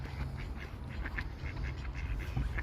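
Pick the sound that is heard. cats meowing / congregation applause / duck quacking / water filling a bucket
duck quacking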